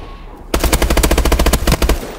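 Rapid automatic gunfire from a Bal-27 rifle in a free-for-all shooter match, a loud fast burst of about fifteen close shots, starting abruptly after a quiet moment, with no talking.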